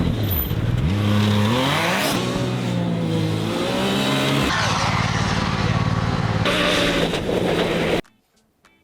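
A 240 hp Can-Am Maverick R side-by-side rips across sand dunes, its engine roaring loudly and rising and falling in pitch with heavy wind buffeting, then cutting off abruptly into near silence.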